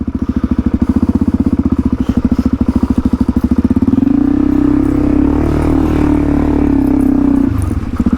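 An adventure motorcycle labours over creek-side rocks on the New South Wales south coast. Its loud, close engine chugs in a rapid pulsing rhythm, then smooths into a sustained revving drone as the rider pushes through.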